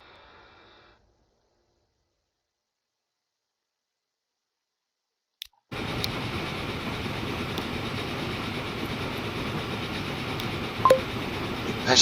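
Trains rolling in the video game Transport Fever 2: a steady, broadband rumble of wheels and cars starts abruptly partway through and continues evenly, with a couple of brief clicks near the end and no talk.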